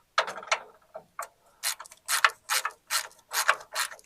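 A ratchet wrench works on a bolt on a car's brake line, producing quick bursts of loud, close mechanical clicking in an uneven, stop-start rhythm.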